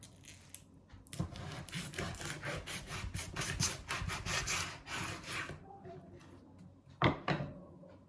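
A knife saws through a cold-smoked grass carp from a home smokehouse, repeated rough rasping strokes in quick rhythm, close and moderately loud, then a pause and one more cut.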